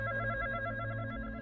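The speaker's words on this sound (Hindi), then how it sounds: "अचानक ट्रेन के सन्नाटे में समीर का मोबाइल बज उठता है" A mobile phone rings inside a quiet train carriage in a steady, muffled electronic trill, faint and continuous over a low rumble.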